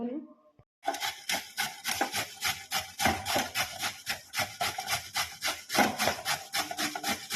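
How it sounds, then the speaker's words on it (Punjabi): Vegetables for paratha rubbed over a kitchen grater in quick rhythmic strokes, a close, dry rasping that repeats steadily after a brief pause and a short stretch of talk at the start. "ਹੁਣ ਆਪਾਂ ਇਹਨਾਂ ਨੂੰ ਸਾਰਿਆਂ ਨੂੰ ਕਰ ਲਾਂਗੇ ਕੱਦੂਕਸ਼ ਤੇ"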